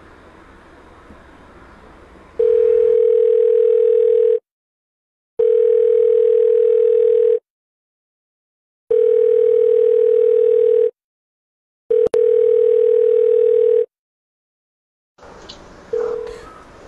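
A telephone dial tone during the placing of a call: four long, steady, loud beeps separated by silent gaps, followed by a short burst of line noise at the end.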